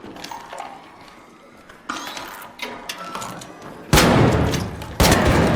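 Shotgun blasts in an online shooter game, two loud sharp booms near the end after quieter thumps and shuffling game sounds.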